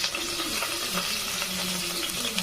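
Garlic, onion and curry leaves sizzle in hot oil inside a pressure cooker on a gas flame, a close, steady hiss with soft crackles and a faint low hum underneath.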